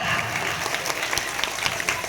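An audience at a school arts fest mimicry show claps in dense, steady applause that stays loud throughout.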